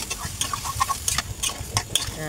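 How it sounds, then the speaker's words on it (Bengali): Snake gourd and potato pieces stir-fry in a pan, with soft sizzling under brisk, irregular scrapes and taps of a spatula. The sound is close and fairly quiet, with no talking. "দিয়ে এই চিচিঙ্গা আলুটা আমি ভালো করে কষিয়ে নেব"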